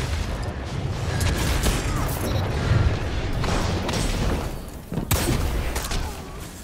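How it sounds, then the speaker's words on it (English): A precision flame shotgun fires in Destiny, heavy booming shots in a dense volley of gunfire and crashing impacts amid continuous game noise, loud and close throughout. "I'm using a, what's it called, a precision flame shotgun"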